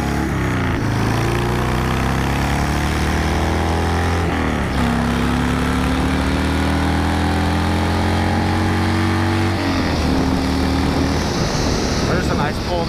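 A Harley-Davidson XLH motorcycle engine, previously parked with carburetor issues, pulls hard under acceleration, its low harmonic drone rising in pitch through two gear shifts, loud and close, with heavy wind rush throughout.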